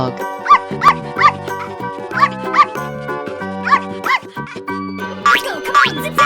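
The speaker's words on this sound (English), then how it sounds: "dog," A cartoon dog barks repeatedly in a 3D animal slide video game, short punchy woofs in an irregular rhythm over bouncy game music, ending with a jingling flourish.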